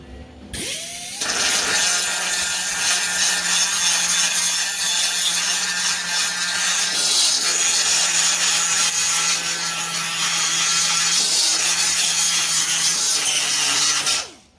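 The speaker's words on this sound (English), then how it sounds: "Give me that die grinder, I'll grind you a spot." A die grinder grinds a clean spot on a 1956 Massey Ferguson 35 tractor, a loud, steady, high-pitched whine running continuously for about thirteen seconds before cutting off abruptly.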